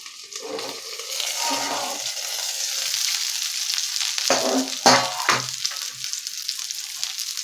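Stuffed okra, filled with spiced masala, fries in a pan with a little oil, giving a steady close sizzle and hiss with a few louder crackling bursts partway through.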